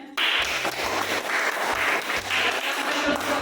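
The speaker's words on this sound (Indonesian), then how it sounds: "Berikan tepuk tangan semuanya" A class of students applauds in a school setting, a dense burst of clapping that begins abruptly and holds steady with a slightly rhythmic pulse, close and full, with no clear talk over it.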